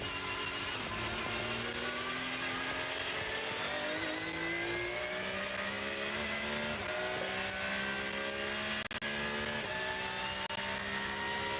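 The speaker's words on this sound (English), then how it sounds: "Just listening to that Porsche engine purring across the line." A loud, high-revving Porsche race car engine droning steadily and continuously, with shifting pitch as it passes close by, no voices.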